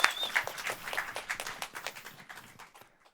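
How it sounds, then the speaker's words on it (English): An audience applauds at a rum bartending competition semi-final: scattered, fairly close claps that open strongly, then thin out and fade toward the end, with no talk over them. "a round of applause for you"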